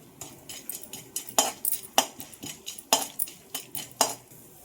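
A spoon scrapes and clinks against a metal pan in a steady rhythm, stirring a sizzling tempering of garlic cloves, dried red chillies and curry leaves close by.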